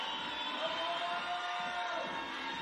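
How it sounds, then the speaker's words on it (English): Spectators roar and cheer at a women's bouldering semi-final in Curitiba, a sustained wall of crowd noise with shouts rising within it for a few seconds. "The crowd once again start to roar"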